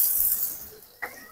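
Water poured into a pan of goat head curry, a brief hissing splash and gurgle fading out, then a sharper spattering sizzle near the end, close and moderately quiet.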